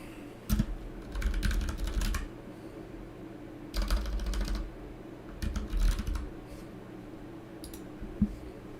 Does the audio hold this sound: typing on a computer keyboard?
yes